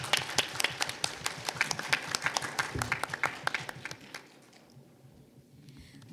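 An audience at the 20th Korea Living Lab Network forum claps after a talk, giving dense, lively applause for about four seconds that then quickly dies away to quiet room noise.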